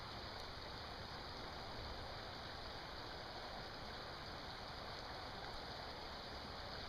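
Steady rushing of a creek during fall trout fishing in Pennsylvania, a constant broad wash of flowing water heard close by with no talk.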